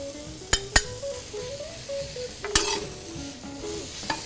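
Whole cracked garlic cloves and fennel sizzle in a pan on a grill, with a steady frying hiss, a few sharp clinks of utensil against metal, and some stirring scrapes.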